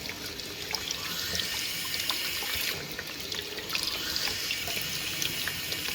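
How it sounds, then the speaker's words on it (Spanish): Tap water runs steadily over the outside of a flask in a polymer chemistry lab, a continuous hissing splash close by with small drips and trickles, no voices. "Vamos a ver si le vamos a poner agua por afuera"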